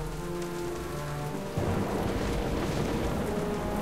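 Heavy rain pours steadily during a storm in Jurassic Park: The Game, a dense wash of drops that turns louder and rougher about halfway through, with no talking.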